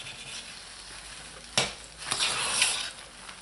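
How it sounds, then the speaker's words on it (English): A lard and lye soap mixture is stirred in a pot, giving soft scraping and swishing with a brief sharper clink of the utensil, fairly quiet and close. "just stir this one"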